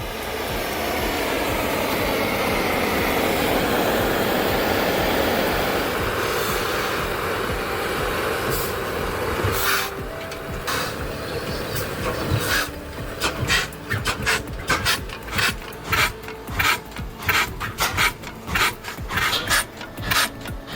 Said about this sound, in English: Firing up the Big Austral, a 20-horsepower oil engine from Ronaldson Brothers in Tippett, built around 1932.